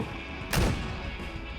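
One sharp, booming thump of a mortar being fired in PUBG, close and punchy, with a brief rumbling tail over quiet background noise.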